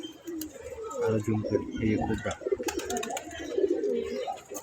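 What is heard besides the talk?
pigeon cooing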